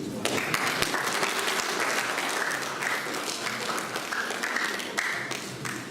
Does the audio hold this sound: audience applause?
yes